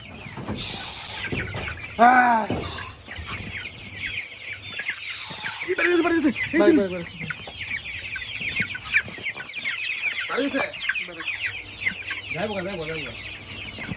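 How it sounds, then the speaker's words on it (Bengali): Chickens cluck and call on a poultry farm of more than a hundred 32-day-old birds, with several short bursts of clucking close by over a steady background of flock noise. "তো আমি আপনাদেরকে হচ্ছে এইখানে মুরগিগুলো দেখাই"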